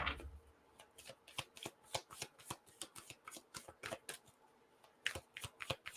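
Oracle cards being shuffled close up, a quick run of crisp riffling snaps and soft slaps in an uneven rhythm with no talking.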